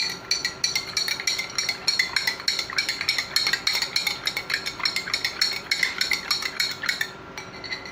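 Metal spoon stirring sugar into water in a glass, a quick steady rhythm of bright clinks against the glass for several seconds before stopping, close up with no talking.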